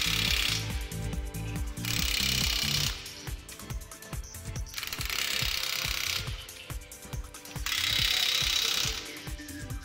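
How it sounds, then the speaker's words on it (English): Ratchet tightening bolts while assembling a TWIN BUSCH TW 125 F 1 single-post lift: loud, close bursts of fast ratcheting clicks alternating with brief pauses, hard and mechanical, with no talking. "Tighten one of the middle bolts first, followed by the two upper bolts. Then you can tighten the rest of the bolts."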